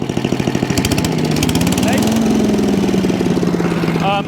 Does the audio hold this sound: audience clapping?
no